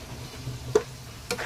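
Beetroot fry being stirred in a pan, a couple of sharp scraping strokes over a soft, steady sizzle, close and fairly quiet.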